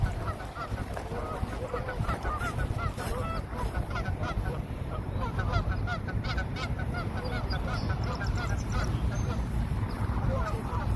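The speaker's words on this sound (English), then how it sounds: "Yes, geese, I can hear you." A flock of geese honks continuously from a small island on a park pond, many overlapping calls at moderate distance over outdoor ambience, with a few duck-like quacks mixed in.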